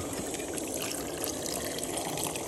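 Water poured into a fishing cool box packed with a solid block of ice, a faint steady trickling and splashing wash running continuously without talk.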